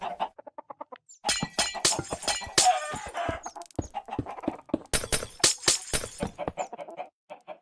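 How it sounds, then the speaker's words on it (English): Rapid block-breaking crunches in Minecraft as a chicken farm is torn down, a dense series of sharp close hits mixed with chicken clucks and glassy breaks, with no talk. "I'm now going to tear down this farm so we could start building the rest of this."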